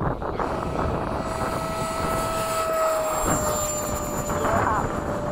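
An FMS 80mm Hawk electric model jet flies in a crosswind, its fan whine holding a steady tone over a wind-buffeted rumble, with pitch shifts as it passes; voices are heard nearby.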